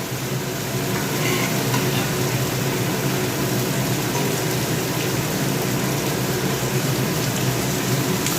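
Curry frying in oil in a home kitchen pan: a steady, loud, unbroken sizzle with a soft stirring hiss, holding even for the whole stretch with no voices.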